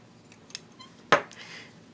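Scissors trim fabric zipper tape for a sewing project, one soft snip and then a single crisp, close cut, with quiet handling around them.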